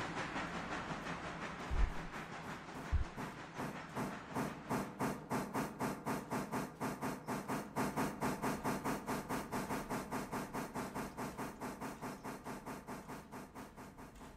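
A steam locomotive in the train simulation game Railroader chuffs in a steady, rhythmic series of exhaust bursts that gradually quicken, with hissing steam and a couple of clanks near the start; no one talks.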